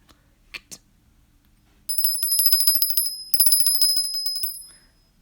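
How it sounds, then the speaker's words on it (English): A bell, likely a bicycle-style bell, rings in two bright bursts of rapid metallic dings, each lasting over a second, after a couple of soft knocks. "I'm just going to ring the bell."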